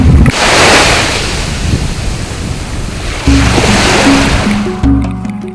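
Strong Pacific Ocean waves break and surge loudly close by in two big roaring swells, with heavy wind buffeting the microphone.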